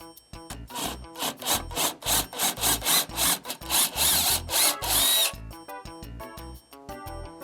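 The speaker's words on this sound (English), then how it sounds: "So I'm going to drill a pilot hole" A drill bites into wood boring a pilot hole in a run of short, rough bursts, loud and close, then trails off into a few lighter taps.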